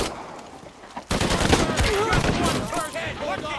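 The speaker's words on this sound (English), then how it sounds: "Fucking heavy fire!" Heavy gunfire erupts in Shadow of the Tomb Raider, a dense rattle of rapid automatic shots that starts abruptly and keeps going loud and close, with shouting voices over it.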